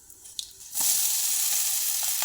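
Cumin seeds dropped into hot oil in a kadhai for a green chilli vegetable dish: after a few quiet taps, a loud, steady sizzle bursts up and continues close by.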